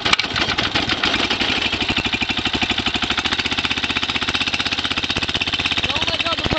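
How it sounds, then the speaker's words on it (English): A go-kart engine running just after a cold start on a chilly day, chugging with a loud, fast, steady pulsing beat that stays close and unbroken throughout. "And we're gonna start it cold."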